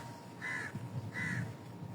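A crow caws twice outdoors, each harsh call clear and fairly close, spaced under a second apart over a faint steady background.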